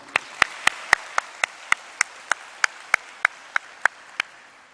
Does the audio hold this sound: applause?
yes